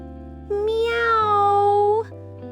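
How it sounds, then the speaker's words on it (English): A single long, plaintive kitten meow, loud and close, rising and then falling in pitch, heard alone over a low background hum. "He heard a tiny,"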